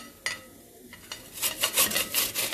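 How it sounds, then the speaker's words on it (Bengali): An apple being grated on a kitchen grater for apple kheer: a faint scrape early on, then a run of quick, close rasping strokes in a steady rhythm, growing louder toward the end. "এখন আপেলটাকে আমি গ্রেট করে নেব"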